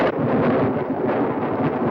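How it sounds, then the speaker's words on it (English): Rain falls with rolling thunder in a steady, dense roar that stays loud and continuous throughout, with no voices heard. "It is only rain and thunder."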